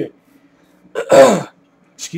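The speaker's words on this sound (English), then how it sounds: "If I cough or grunt or clear my throat, I really apologize" A man who is a little under the weather clears his throat in one loud, gravelly burst with a short cough-like catch, close to the microphone, with brief vocal sounds before and after.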